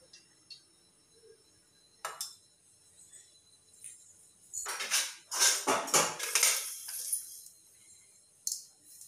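A wok is set onto a home kitchen stove amid metal pans clinking: a few sharp clanks, then a dense cluster of rattling metallic knocks mid-way and one last clink near the end, fairly close.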